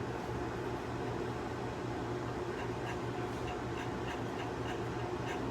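Steady mechanical drone of a five-blade white and brass Fasco Charleston ceiling fan motor, a constant low hum with broadband whir and faint ticking overtones, moderately quiet and unbroken throughout.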